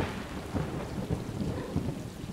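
Rain falling in the video game Stray, a steady close wash of drops on surfaces with a low rumble beneath, continuous and fairly quiet, with no talk.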